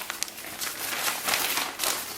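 Plastic rain cover for an iCandy Peach 2016 stroller being unfolded, giving close, continuous crinkling and crackling that rises and falls in bursts, with no talk over it.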